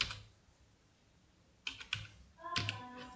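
Typing on a computer keyboard sounds as a few quiet, sparse clicks and short bursts of keystrokes separated by pauses, close and alone without talk.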